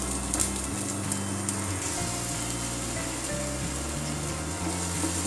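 Garlic fries steadily in a hot pan for a Tamil black nightshade dhal, giving a continuous close sizzle with light crackling throughout and no voices.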